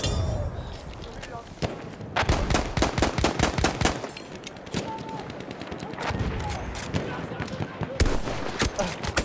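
Rapid bursts of gunfire in Battlefield 1 crack repeatedly, some in quick automatic strings, with voices talking underneath the shooting.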